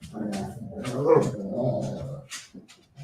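Playing dogs bark, yip and growl close by in a short, busy burst of overlapping canine noise.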